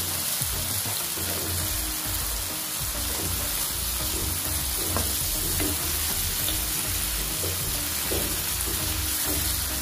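Chopped tomato fries in spice paste for a climbing fish curry, giving a loud, continuous sizzle with bubbling crackle and occasional stirring scrapes close by.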